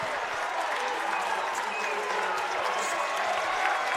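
A home crowd at a girls' state high school volleyball quarterfinal claps and cheers in a sustained, loud wave of applause that swells slightly toward the end.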